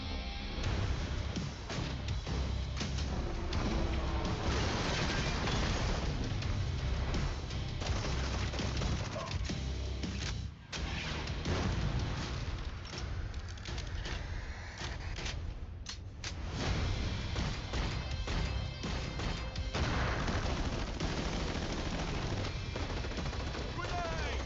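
Rapid gunfire and explosions from a VR shooter game trailer, a dense, loud, continuous barrage of shots and blasts with a brief lull partway through and faint voices underneath.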